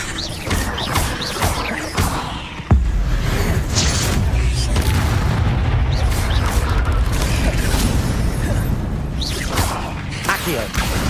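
Fire spell blasts and crashing impacts in the Hogwarts Legacy wizard game, a dense, loud run of bursts and whooshes during combat.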